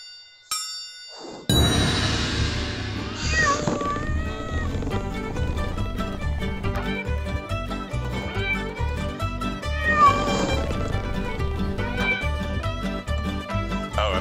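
Repeated cartoonish cat meows in the Loco Dojo video game, where cats are flung at rivals, sounding over bright game music with dings and clangs after a short quiet start.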